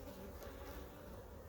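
Honeybees swarm and buzz around a beehive that is under attack from hornets. The buzzing forms a faint, steady hum with no voices.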